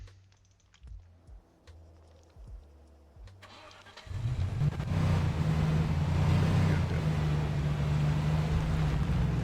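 A car engine in the video game Arma 3 cranks and catches after a few quiet clicks and rumbles, then settles into a loud, steady running drone.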